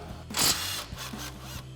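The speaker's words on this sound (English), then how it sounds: "So we'll grab our 10 mil socket on our impact, remove the bolt" An impact wrench with a 10 mm socket removing a bolt during a Ford F-150 front suspension leveling kit install: a short, quiet burst of rattling mechanical whirring.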